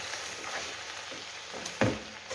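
Vegetables and onion being stir-fried in a wok, a steady soft sizzle with faint stirring scrapes and one sharper clatter near the end, with no talking.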